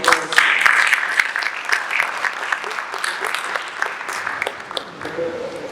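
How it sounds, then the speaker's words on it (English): A round of applause at a keynote address for a mental wellness event, many hands clapping loudly at first, then thinning and fluctuating as it carries on with some faint voices underneath. "Please, can you give them a round of applause?"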